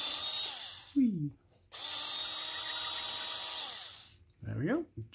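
A small hand-held drill bores into a hobby miniature for the Infinity tabletop game. The motor whines close and clear in three bursts, and its pitch rises as each burst spins up and falls as it winds down, with short pauses between.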